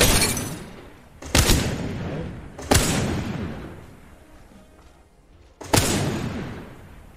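Gunfire in the shooter game Apex Legends: three heavy, booming shots spaced a second or more apart, each with a long rumbling decay, loud and close, with no voices.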